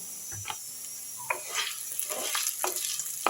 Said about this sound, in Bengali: আলুগুলো একবার নেড়ে দিচ্ছি